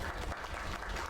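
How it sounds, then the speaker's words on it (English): Brief, fairly quiet applause from a crowd in the video game Lake, a dense patter of clapping lasting about a second. "Another round of applause."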